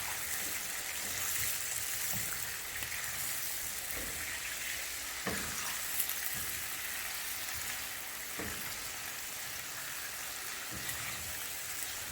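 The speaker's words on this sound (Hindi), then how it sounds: "चिकन को 5-10 मिनट फ्राई कर लें" Chicken pieces frying in melted ghee in a karahi, giving a steady broadband sizzle throughout with a few soft clicks and stirs, moderately loud and close, no voices.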